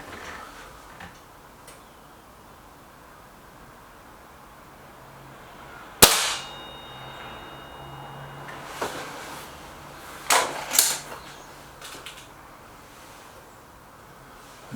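A single sharp air rifle pellet shot cracks out loud and close during a Norma versus Bisley pellet test, followed by a few fainter clicks and knocks against quiet background hiss.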